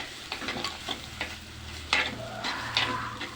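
Chili powder and masala fry in oil for a fish dish, a soft sizzle under repeated scraping stirs of a spoon against the pan, close and moderately loud with no voices.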